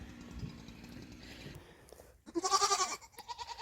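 Nigerian dwarf goats bleating on a farm, one loud nasal bleat rising after a quieter stretch of low background noise, followed by shorter pulsing calls.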